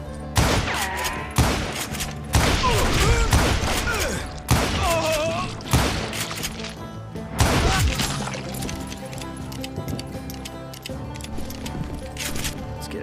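Gunfire in the Western shooter Call of Juarez: Gunslinger, with loud sharp shots and bursts spaced irregularly, some echoing crashes among them, then quieter rumbling action afterward.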